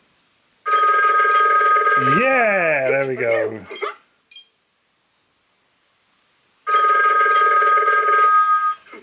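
A Disney Mickey Mouse limited edition animated telephone rings loudly in two long electronic bursts, separated by a gap, with a brief cartoonish voice sweeping through the first ring and a person speaking briefly.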